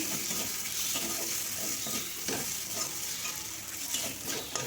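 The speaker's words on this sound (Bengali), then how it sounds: "মশলার জল দিয়ে ভালো করে এই মশলাটাকে কষিয়ে নেব তেল ছাড়তে শুরু করেছে" Spice paste with tomato, salt, turmeric and chili powder fries in oil for a papaya and potato curry, making a dense, continuous close sizzle with stirring scrapes throughout.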